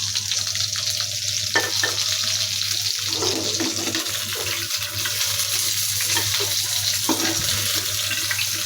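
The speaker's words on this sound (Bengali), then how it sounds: "এদিকে আমি মাংস হাফ ভেজে নিয়েছি আর হাফ মাংস ভেজে নিব।" Chicken pieces for a kala bhuna curry fry in a pan with a steady, loud sizzle, broken by intermittent scraping as the meat is stirred, with no talking.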